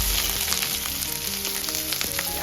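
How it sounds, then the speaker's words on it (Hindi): Two medium onions, sliced lengthwise, fry in hot oil over low heat, giving a dense close sizzle with light crackles and faint stirring, no voices present. "मैं गैस को अब सिम कर दूंगी और इसमें मैं ये प्याज डालूंगी"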